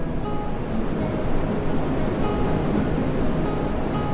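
Steady broadband sea surf rolling without pause, a dense continuous wash of waves heard from close by, with no voices over it.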